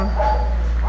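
Rescued stray dog making short yips and whimpering barks close by, with steady low background noise and no talk.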